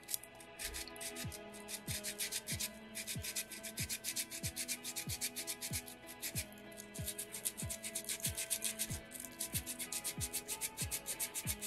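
Sandpaper rubs steadily over a small soapstone beaver carving, a fast regular run of close, fairly quiet scraping strokes with no voices.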